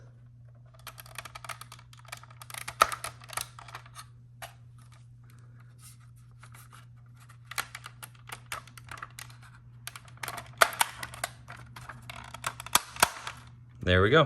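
Plastic gun barrels being pushed and slid into a 1:18 scale Japanese Zero (A6M) model plane make scattered small clicks and snaps, with a brief voice and a steady low electrical hum underneath.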